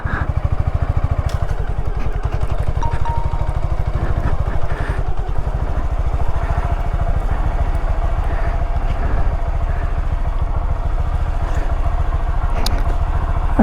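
Mini moto motorcycle engine running steadily while being ridden at night, a close, continuous buzzing drone with a rapid pulsing rhythm and faint clatter throughout.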